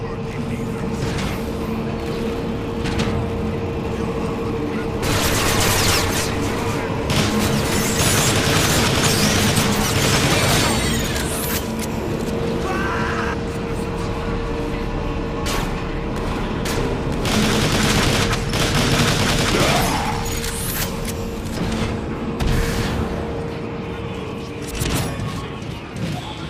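Robot weapons fire in rapid bursts and explosions boom in a Transformers action video game, a loud dense barrage of gunfire and blasts with mechanical clanks, while voices shout over the battle.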